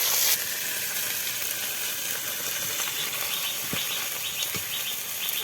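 Fish frying in hot oil gives a steady, dense sizzle with a few faint crackles, close and continuous, with no talking.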